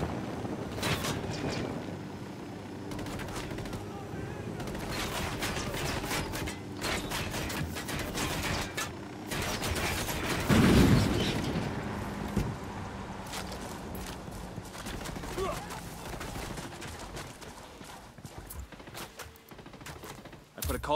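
Sustained gunfire in Ghost Recon Wildlands, a dense fusillade of shots over a steady rumbling game backdrop, with a louder burst partway through and a voice speaking briefly.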